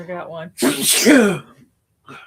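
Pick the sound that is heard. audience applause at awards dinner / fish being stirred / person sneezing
person sneezing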